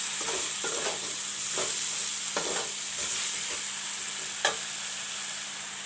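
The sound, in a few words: stirring soya chunks in a pan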